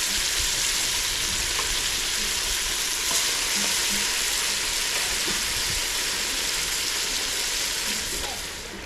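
Chicken pieces frying in hot oil in a pan for a wedding anniversary feast, a loud continuous sizzle with occasional stirring clatter, steady and close, fading slightly at the end.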